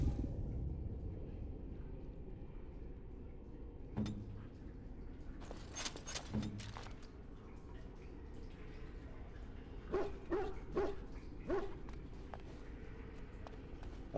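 Dogs barking in the Dragon Age Origins video game at Redcliffe Castle, a few short bark bursts scattered over a low, steady game ambience, moderately close.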